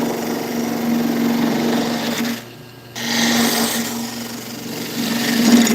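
A wood lathe spins a piece of driftwood with a steady whirring hum and a scraping rasp of cutting, briefly dipping quieter mid-way before resuming at full strength.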